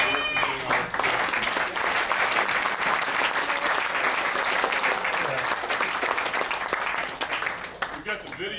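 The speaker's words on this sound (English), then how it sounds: "let's have a round of applause for the Scobies for their work in doing all" An audience at a high school wrestling banquet gives a round of applause, loud continuous clapping for about eight seconds that thins out near the end, with some voices mixed in.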